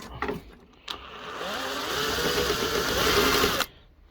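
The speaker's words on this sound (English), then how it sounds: "then we'll take these couple of screws out that look to be holding the motor in" Screws holding the motor of an air fryer and bread maker are taken out, with a short mechanical whir that builds and holds for a few seconds before stopping abruptly, close by.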